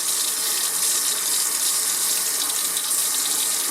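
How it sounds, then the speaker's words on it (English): Hot water gushing from a tap into a sink during a freezer repair, a loud, steady, close rush of flowing water with no talk. "So I'm just going to take some hot water."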